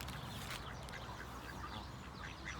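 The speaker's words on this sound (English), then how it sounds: "I'm going to feed the geese and the ducks" Ducks and geese being fed on a sunny day in Wigan, faint scattered quacks and calls over a soft outdoor background.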